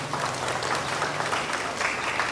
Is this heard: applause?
yes